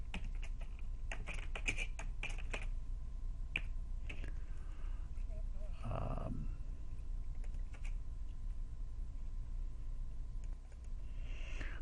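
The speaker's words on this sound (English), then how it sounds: "I'm typing here." Typing on a computer keyboard while writing code in NetBeans, a quick run of crisp, close key clicks at the start, then scattered single taps and short bursts over a quiet background hum.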